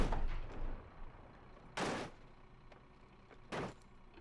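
Two heavy booming cannon blasts in the video game BeamNG, roughly two seconds apart, each a broad burst that fades quickly, over a low rumbling background with no talk.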